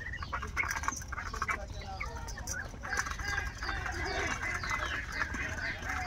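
A flock of Muscovy ducks kept as pets, heard close, gives repeated hisses, soft quacks and clucking calls over a rustling background, with some voice-like sounds mixed in.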